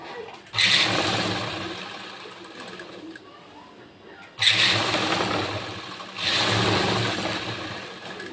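A sewing machine stitches a blouse seam in two long motor-driven runs of whirring, with a short pause between them and a voice talking during the quieter moments.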